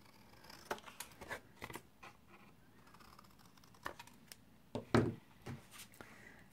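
Excess cardstock paper being trimmed, with a few scattered snips and cutting sounds near and quiet, a louder cluster near the end, and no voice.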